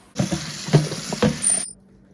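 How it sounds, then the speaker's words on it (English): Tap water runs steadily for about a second and a half over spinach leaves being rinsed in a kitchen sink, with soft splashes and clatter mixed in, then cuts off abruptly. "I'm going to wash this spinach off."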